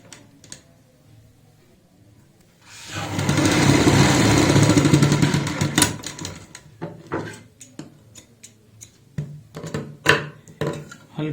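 A domestic sewing machine stitches a child's jacket in a short, close burst of rapid whirring lasting about three seconds, followed by scattered clicks and thumps of fabric handling.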